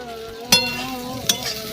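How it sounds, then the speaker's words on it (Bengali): Banana pieces fry in hot oil in a kitchen pan, a soft sizzle broken by two sharp utensil clicks as they are stirred. "এবার ভাজছি, দেখো কলা।"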